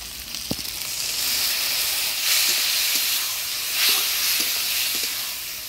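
A water-mixed spice paste hits hot mutton fat in a pan for village-style ghugni and sizzles in a loud, steady hiss that swells now and then, with a few faint clicks underneath.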